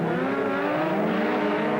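A 1988 Audi Quattro S1 at the British Rallycross Grand Prix, its engine roaring loud and steady at high revs under power, with no commentary audible.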